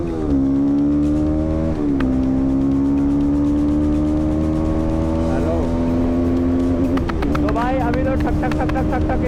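Jawa 42 Bobber motorcycle engine riding along after a gear change, a steady loud droning thump that rises in pitch as it accelerates, with someone talking over it.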